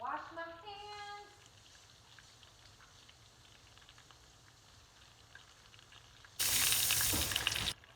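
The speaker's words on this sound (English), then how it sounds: "So, wash my hands." Hands rinsed under a running kitchen tap while making a burger, heard as a loud, steady rush of water lasting just over a second near the end, after a mostly quiet stretch.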